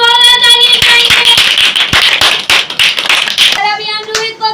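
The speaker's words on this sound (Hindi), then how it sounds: "आपकी जोरदार तालियों में." An audience claps for a child at a Bible competition, a burst of sharp, uneven handclaps over sustained musical tones, close and loud, lasting a few seconds.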